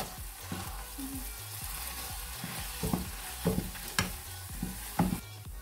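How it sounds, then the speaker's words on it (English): Potato, carrots and onions being mashed in ghee in a hot pan, a series of soft squelching presses and scrapes under a steady sizzle, fairly close and moderately loud, with no talking. "Give it a good old mash."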